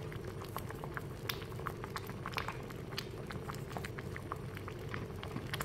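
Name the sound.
sweet pudding boiling in a pot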